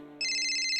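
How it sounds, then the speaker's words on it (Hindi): An electronic phone ringtone cuts in sharply, a bright, sustained high-pitched tone following a quieter lower hum. "आदि का फोन।"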